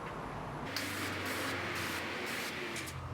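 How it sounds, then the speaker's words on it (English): Duck fat cooking spray hisses from an aerosol can onto outdoor grill grates in several short, close bursts of bright spray with brief pauses between them. "spray some duck fat on the grill grates here"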